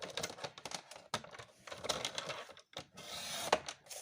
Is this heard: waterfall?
no